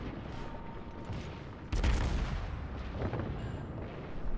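The battlecruiser Moskva fires a heavy gun salvo in World of Warships, a single loud booming blast with a rumbling tail over ongoing battle ambience.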